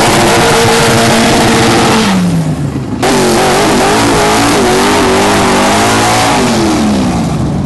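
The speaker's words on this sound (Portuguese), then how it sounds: "Olha os carros arrancando aqui." Race cars accelerate away at the start of a rain-soaked race, their engines revving hard with rising and falling pitch, loud and continuous as they pass close by, with no talking.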